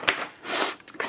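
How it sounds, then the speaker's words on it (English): Close, quiet sniffles through a congested nose with a cold, a few short wet inhales spaced across a brief moment. "sorry, my nose, I seem to have the sniffles."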